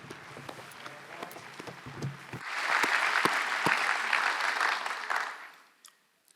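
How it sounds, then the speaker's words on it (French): Audience at the Nestlé Annual General Meeting 2023 bursts into applause after scattered early claps, swelling into a full, steady ovation for a few seconds before fading away to silence. "Prenons un instant pour applaudir"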